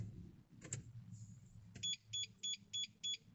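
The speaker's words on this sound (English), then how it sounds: "Get your 5 bleeps" Five short, evenly spaced electronic bleeps from a Starline i96v2 immobiliser fitted to a Mercedes C Class AMG, following a brief low engine hum and a click.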